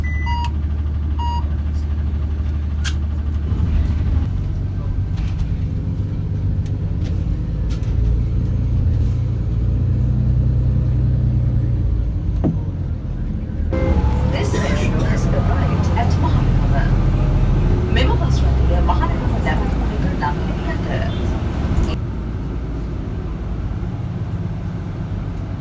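Inside a moving metro bus in Sri Lanka on the Makumbura to Pettah route, a steady low engine rumble and road noise fill the cabin, rising as the bus picks up speed, with voices talking over it.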